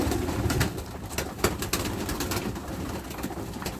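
Soft cooing of high-flying pigeons repeats through the clip in a loft over a steady low rumble, with scattered faint clicks and flutters nearby.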